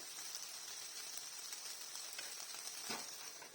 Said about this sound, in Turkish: Şimdi biraz bamyalarımızın pişmesini bekliyorum. Arada karıştırıyorum.